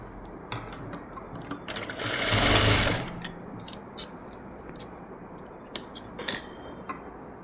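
A sewing machine stitches the synthetic lining of a blouse in one short, steady whirring run of about a second, close and moderately loud, surrounded by quiet ticks and clicks of fabric handling.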